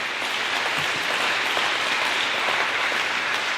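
Steady applause from an audience at a mayoral candidate forum, a dense, even wash of clapping that holds at a constant level from start to finish with no voices over it.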